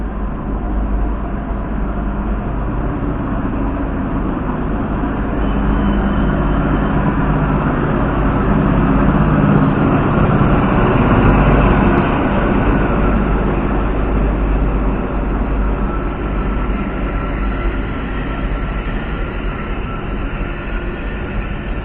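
The Overland passenger train between Melbourne and Adelaide rolls into a station platform, a steady loud rumble of wheels and engine that swells slightly midway, with no voices.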